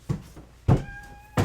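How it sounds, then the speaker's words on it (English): A house cat meows at a door, three short, fairly close cries spaced apart, with a faint thin tone lingering between them. "I gotta let the cat out"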